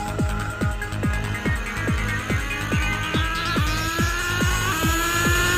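Nitro engine of a Kyosho USA-1 RC monster truck revving loudly at half throttle, a rapid series of sharp, repeated rev blips over a buzzing drone, with the pitch climbing steadily as it runs.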